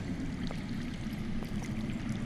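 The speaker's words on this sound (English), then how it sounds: "I hear water." Underground running water in a video game: a steady, faint, rushing stream flowing continuously with no voices.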